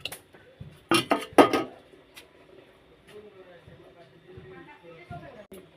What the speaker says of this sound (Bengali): এখন আমি এক এক করে ডিমগুলো দিয়ে দেব।